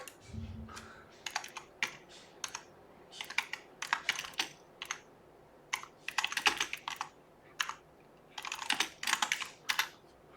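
Fingers tap a computer keyboard in uneven clusters of quick clicks separated by short pauses, close and clear, with no voices.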